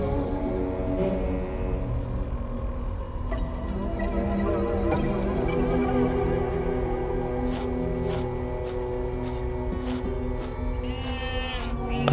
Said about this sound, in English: The B&B host must be a shepherd. A lot of cool sheep here.